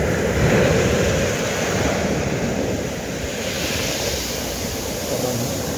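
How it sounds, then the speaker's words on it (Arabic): Sea wave washing up over sand grains on a beach, a continuous loud rushing surf wash with wind noise, swelling early and then settling into a steady hiss, with no voices. "طبعا الآن جاءت موجة ماء"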